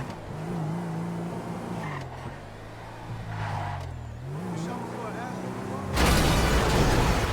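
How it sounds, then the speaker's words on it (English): A car crash in GTA V: a rumbling engine drone shifts in pitch, then a sudden loud burst of impact noise near the end, with no talk over it. "Crashed into my car."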